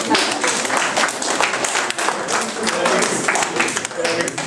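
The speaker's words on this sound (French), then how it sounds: "j'aimerais bien que les jeunes applaudissent leurs parents" Young players applaud their parents at a youth tournament awards event, a steady wash of clapping from a crowd running throughout with voices mixed in.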